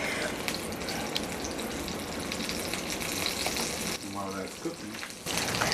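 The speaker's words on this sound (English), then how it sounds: "when you put a little bit of the breadcrumbs in there, it kind of sizzles a little" Steady hissing and crackling of breadcrumbs frying in hot oil, continuous and fairly close, with a brief clatter of utensils near the end.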